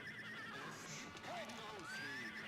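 Horse neighing in the video game Warrior Blade: Rastan Saga III, a couple of whinnies over game music and effects, with a person talking in the background.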